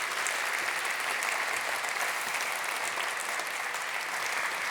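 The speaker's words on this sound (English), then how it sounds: "Round of applause." Sustained audience applause fills a conference opening session, a steady dense wash of many hands clapping at even loudness throughout, with no voices over it.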